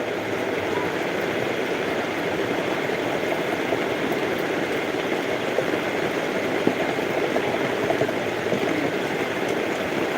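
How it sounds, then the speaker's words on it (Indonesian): Heavy rain pours down as a steady, dense roar that stays loud and unbroken throughout, at a roadside food stall where eggs are cooked, with faint voices now and then. "hujannya tambah deras lagi"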